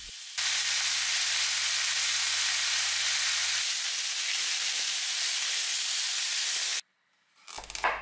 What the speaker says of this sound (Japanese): まずね、フライパンで焼き目をつけてから圧力鍋で柔らかくしてい